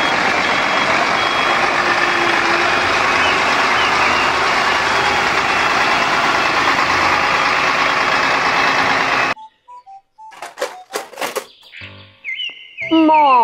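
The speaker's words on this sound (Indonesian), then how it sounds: "mobil truk molen" A toy cement mixer truck gives off a loud, steady mechanical whirring drone for about nine seconds, then cuts out abruptly into a few electronic beeps and chirping tones.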